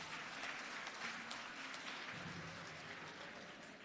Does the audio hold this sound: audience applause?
yes